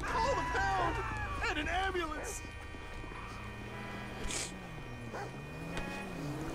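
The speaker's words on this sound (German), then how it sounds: "It's a guy chasing a dog." A dog in the video game GTA V barks and whimpers in short yelps while a man chases it, mixed with game sounds and ongoing talk from players.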